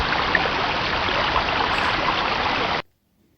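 Flowing water rushes in a steady, loud, dense wash like a stream, continuous and unchanging until it cuts off abruptly near the end.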